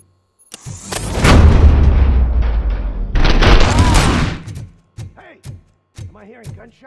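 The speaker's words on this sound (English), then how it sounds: "Hearing gunshots?" Heavy bursts of gunfire and booming blasts from the video game RoboCop: Rogue City fill the first few seconds, followed by short shouted voice fragments.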